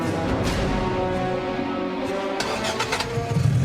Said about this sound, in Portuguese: O carro pegou.